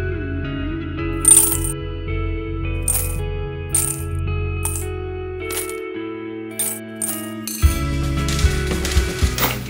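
Loose coins, pennies, nickels and dimes, drop and clink in a series of bright metallic hits over a steady musical bed, ending in a denser cascade of jingling change.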